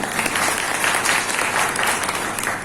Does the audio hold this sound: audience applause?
yes